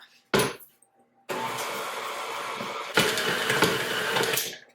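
Electric hand mixer churning flour batter in a bowl: a short burst, a pause, then a steady loud whir that jumps louder midway as the beaters jiggle around the chunky mix.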